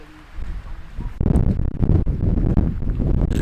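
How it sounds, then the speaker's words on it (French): Strong mountain wind at over 2000 metres altitude buffeting the microphone, a loud, low, gusty rumble that surges after the first second and keeps roaring with rough, uneven bursts. "j'espère que vous allez bien m'entendre avec le vent parce qu'il y a beaucoup de vent"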